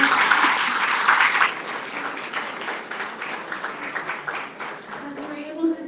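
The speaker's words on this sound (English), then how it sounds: "So let's give it a round of applause." An audience at an event gives a round of applause. The clapping is loud at first, then thins into scattered claps, with voices speaking over the tail.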